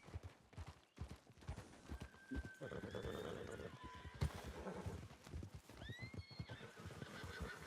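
Horses in a ranch roleplay video game clip-clop steadily and give several whinnies and neighs over a busy, loud mix of hoof and game sounds.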